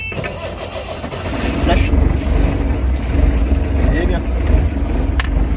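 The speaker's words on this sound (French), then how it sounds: "Quand tu démarres le moteur." A boat engine at La Réunion starts up and settles into a loud, steady low rumble that fills the whole stretch, with brief talk from people nearby.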